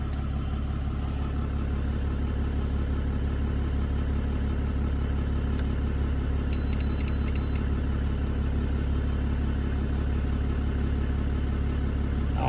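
A Dodge 5500 truck engine runs at a steady idle, a constant low hum held close and level throughout with a few faint clicks partway through.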